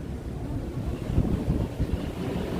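Wind buffets the microphone in low, uneven gusts, a steady rumbling rush with swelling surges and no voices.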